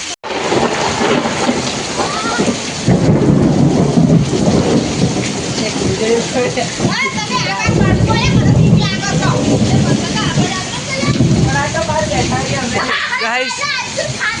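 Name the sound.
thunderstorm with lightning strike and heavy rain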